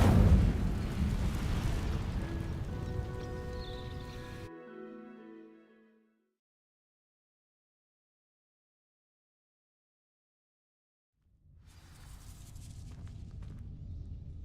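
A loud rumbling whoosh of the Incendio fire spell cast in Hogwarts Legacy opens the clip and fades with a ringing tail into silence. Later, softer game ambience returns.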